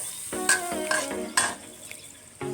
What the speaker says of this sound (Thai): แล้วมาคั่วให้มันแห้งนะคะ